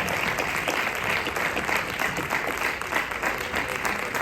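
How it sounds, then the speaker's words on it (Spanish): Steady, dense applause from a conference audience, continuous and fairly loud throughout, with no voices standing out. "quiero por favor que le deis un muy fuerte aplauso a Jesús y a Miguel porque lo han bordado."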